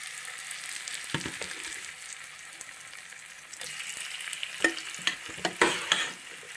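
Pieces of bitter gourd sizzle in hot oil in a nonstick pan, a soft steady hiss with a few louder clatters and pops near the end as pieces are laid in and arranged.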